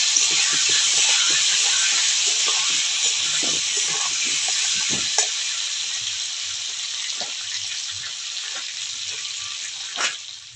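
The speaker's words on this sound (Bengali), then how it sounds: "লবণ হলুদ দিয়ে আলুটা ভালো করে ভেজে নেবো।" Potatoes sizzle steadily in hot oil with salt and turmeric, a dense continuous hiss lasting throughout with faint clinks and stirring knocks underneath, close and fairly loud.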